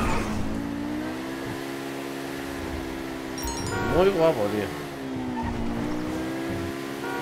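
Electric rally car, the Överflöd Imorgon, driving in a video game, with a steady engine-like drone and a brief rising surge with tire squeal midway, under continuous casual talk.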